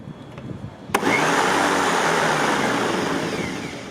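Electric lawn mower, its blade spinning after a repair: a sharp click switches on a steady, loud whirring motor hum that holds evenly and tapers slightly toward the end, no talk.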